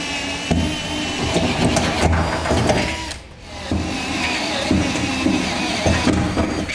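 A power drill bores out and enlarges a hole in the steel frame of a 2016 GMC Sierra 2500 for a Curt gooseneck hitch, grinding loudly and continuously with brief bites and a short pause midway.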